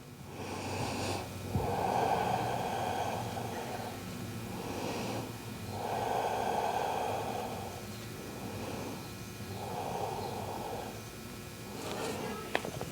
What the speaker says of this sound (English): as we take 3 long, smooth inhales. Long, smooth exhales.